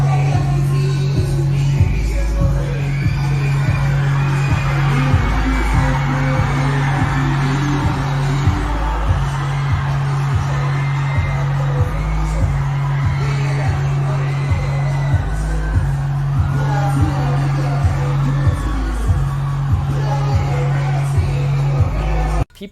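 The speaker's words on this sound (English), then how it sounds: "just listen to the crowd in this video. It is so fucking loud." A loud concert crowd roars and cheers nonstop for a performer at a show, with yells and whoops over a steady pounding bass beat throughout.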